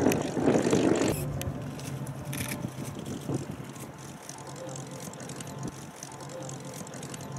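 A Hawker Hurricane with a Rolls-Royce Merlin engine taxis after landing, giving a steady, moderately distant propeller drone that is louder at first and then settles into an even rumble.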